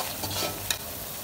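Chili, cumin and coriander powders for a beef curry fry in a pan, making a brief, close hiss with a single sharp scrape of a spoon.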